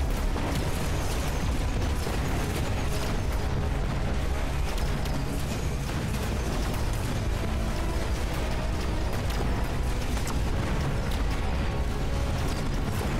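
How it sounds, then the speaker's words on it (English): Lines of tanks exploding in the Mechabellum strategy video game, a continuous dense barrage of booms, pops and mechanical clatter, loud and unrelenting throughout with no pauses. "Boom, there goes a line of tanks."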